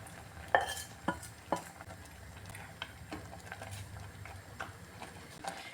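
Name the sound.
stirring vermicelli kheer with milk in a pot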